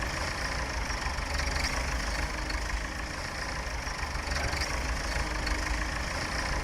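Steady mid-pitched engine drone of a tractor in Farming Simulator 17 during potato harvesting, an unbroken game engine loop running evenly at moderate volume with no speech.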